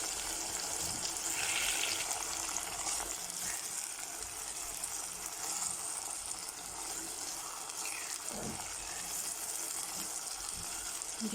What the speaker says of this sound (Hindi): चिकन जो है वो हमारा थोड़ा सा फ्राई हो चुका है